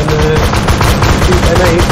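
Rapid automatic gunfire in a military tactical shooter game, a dense continuous burst of loud close shots that fills the whole moment, with a voice faintly mixed in.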